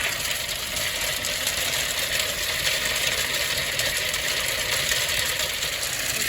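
A black walnut huller with a paddle on its shaft runs outdoors, discharging hulled nuts out the side: a steady mechanical hum with constant rattling and clattering, moderately loud and unbroken, without talk.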